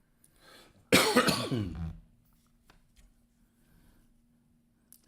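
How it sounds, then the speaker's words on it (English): A single hard, unproductive cough bursts out loud and close for about a second, followed by quiet room tone with faint rustling. "An unproductive cough, because I don't cough anything up with it."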